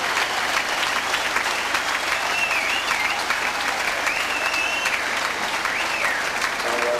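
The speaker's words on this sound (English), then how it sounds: "a deserved standing ovation for Steve Bwinan" A football crowd at a 1998/99 Plymouth Argyle versus Scunthorpe United match gives a standing ovation, steady dense clapping and cheering that continues loudly throughout, with commentary audible over the top.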